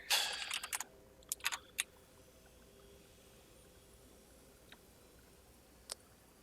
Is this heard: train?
no